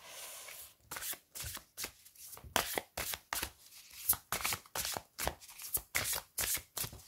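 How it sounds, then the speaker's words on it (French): Oracle cards are riffled and shuffled by hand in a rapid, rhythmic run of crisp flutters and soft slaps, close and clear with no talking. "Donc, nous allons mélanger les cartes."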